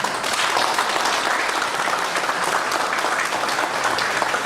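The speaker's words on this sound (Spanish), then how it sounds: "para quien pido un fuerte aplauso" A seated audience at a legal conference in Lambayeque gives a full, steady round of applause for a speaker, a dense, even wash of clapping that lasts the whole stretch without a pause.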